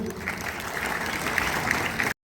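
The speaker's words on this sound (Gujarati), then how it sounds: "આપણે એમને તાળીઓથી વધાવી લ્યો" Applause welcoming two anchors at a Guru Purnima celebration at an English high school in Bhavnagar, a steady wash of many hands clapping at moderate distance, continuous and even, cutting off abruptly.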